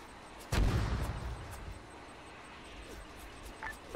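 A missile explosion in the video game Arma 3: one sudden heavy boom with a rumbling tail that fades over about a second, followed by quieter ambient noise and a faint later thump.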